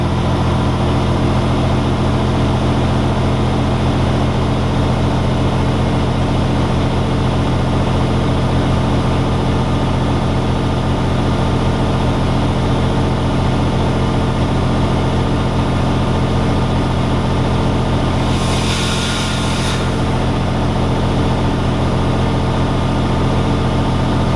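A truck engine idles loudly with a constant low rumble and even hum during an air brake test, broken briefly by a short burst of air hiss near the end.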